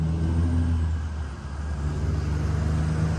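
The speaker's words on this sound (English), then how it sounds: "Can't even hear me because of all the trucks." Heavy trucks and cars rumble past steadily on a road in the North Country Trail area, a continuous low engine drone and tyre roar that stays loud and close for the whole stretch with no pauses.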